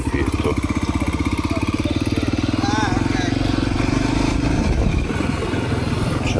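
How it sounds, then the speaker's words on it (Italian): A long queue of scooters and cars idling at a fuel station in Africa, a close motor throbbing in a steady rapid pulse with a continuous engine rumble underneath and faint voices in the background. "Cioè ci saranno 40 tra motorini e macchine."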